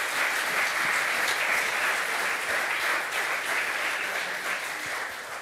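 A studio audience at a sports talk show claps in a dense, steady wash of applause that holds evenly for several seconds and fades slightly at the end.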